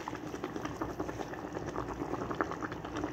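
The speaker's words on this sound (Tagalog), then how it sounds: "Hintayin natin maluto sandali yung ating bihon" Rice noodles (bihon) boil in a cooking pot with a steady, dense bubbling that holds moderately loud and continuous, without pauses or talk.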